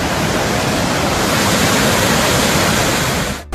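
Water rushes loudly and continuously at Hogenakkal waterfalls, a dense, steady roar close by that cuts off abruptly at the end.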